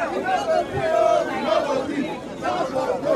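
A large crowd of End SARS protesters in Abuja fills the air with dense overlapping chatter and shouts, raised voices rising and falling throughout.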